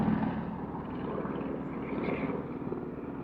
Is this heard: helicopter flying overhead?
yes